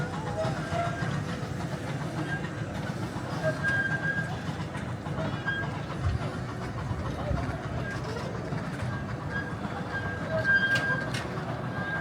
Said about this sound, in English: Oh, and here comes the train.